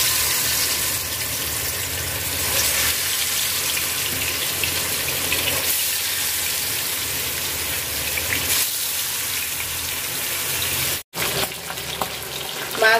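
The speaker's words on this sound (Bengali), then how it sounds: "কড়া করে আমি ভাজছি মাছগুলা" Pangas fish fries in hot oil with a loud, dense, hissing sizzle that runs unbroken and close, cutting out briefly near the end before resuming.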